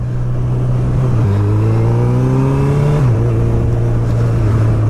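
A 2019 Honda CB1000R motorcycle fitted with a Termignoni GP2R exhaust rumbles close by with a deep, loud engine note that rises and dips in pitch as the rider shifts and rolls on the throttle.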